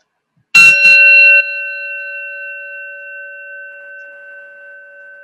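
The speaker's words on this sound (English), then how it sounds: "I'll sound the gong." A meditation gong or bell rings out in a quiet room, struck once with a bright metallic hit and then a clear, pure tone that sustains and slowly fades over several seconds.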